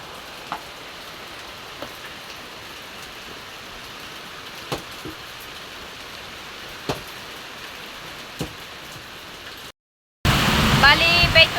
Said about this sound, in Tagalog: malakas na naman po ang ulan, pati kukulog ay malakas